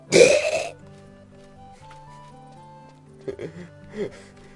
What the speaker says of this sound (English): The burp sold it for me.